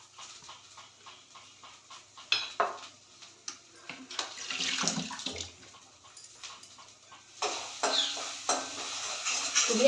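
A spoon or spatula stirs masala into chopped onion and tomato in a pan, giving close, uneven scraping and sizzling bursts that swell and fade.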